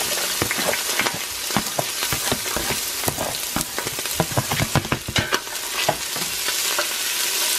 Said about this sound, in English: we're gonna saute the onions and we're gonna also start browning the beef stew